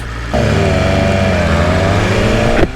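A 2020 BMW S1000RR sport bike accelerating hard on an open road, its engine note climbing steadily in a loud, close, sustained rev with no talking.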